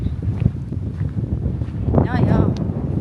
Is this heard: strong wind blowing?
yes